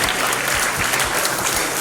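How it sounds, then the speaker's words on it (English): Audience at a formal investment forum dinner gives an honoree a round of applause, dense continuous clapping filling the room at close range. "Round of applause for honoring you this evening"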